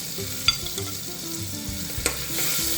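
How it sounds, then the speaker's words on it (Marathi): Crushed garlic sautés in a pan with a loud, close sizzle, punctuated by a few sharp scraping stirs against the pan. "आणि हा ठेचलेला लसूण आहे लसूण जास्त घातला जरा छान परतून घ्यायचा"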